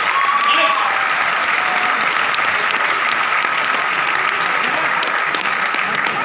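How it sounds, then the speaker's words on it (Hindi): A live audience at a session in Bandra, Mumbai breaks into loud, sustained applause, dense clapping filling the whole stretch with a faint voice briefly audible near the start. "जोरदार ताली होनी चाहिए आप लोगों की।"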